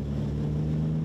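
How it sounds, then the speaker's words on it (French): The twin 300-horsepower engines of the Icelander, a boat in the Shetland Islands, drone loud and steady, with a deep hum and rich harmonic layers running unbroken throughout. "Les 2 moteurs de 300 chevaux de l'Icelander donnent de la voix, puis ralentissent."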